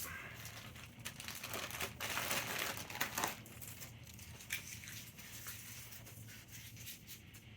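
A plastic bag holding a Sony PS2 memory card is sealed up by hand, giving a run of close, soft crinkling and crumpling rustles with a few sharper clicks, and no talk.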